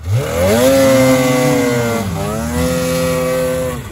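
A new snowmobile engine in the Arkhyz mountains revs hard and close, its pitch climbing, dipping briefly, then rising again in a sustained whining roar with no talk over it.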